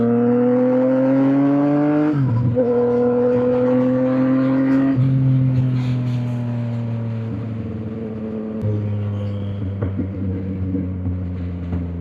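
A Yamaha MT-09 three-cylinder motorcycle engine on a ride out toward Spelga Dam, its steady harmonic drone stepping between gear changes and engine speeds, loud and continuous from start to finish with no talking.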